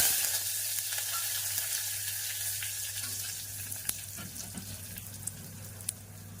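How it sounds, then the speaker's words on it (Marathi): Curry leaves and green chillies crackling in hot oil with cumin and mustard seeds for an amti tempering, a steady bright sizzle close up with a few sharp pops near the end, no voices. "मग आता या कढीपत्त्याला फोडणी देते"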